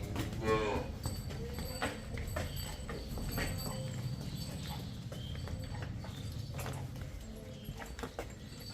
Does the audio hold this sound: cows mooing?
yes